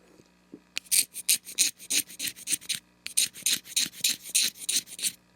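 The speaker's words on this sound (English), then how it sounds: "we will scrape the channels or scrape the area of the heart so that it has a nice blend" A knife scraping the channels and heart of a cane reed, a fast run of short rasping strokes, close and crisp, broken by a brief pause midway.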